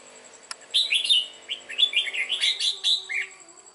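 A young red-whiskered bulbul, four to five months old and moulting, sings a busy run of bright chirps and warbling phrases, close and clear, over a quiet background with no talk.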